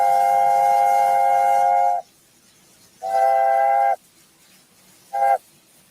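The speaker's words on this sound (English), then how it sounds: "So in this A4 pack, Diego, you get 7 different sounding whistles." A train whistle sounds three times: a long blast, a shorter one, then a brief toot, clear and close with quiet gaps between.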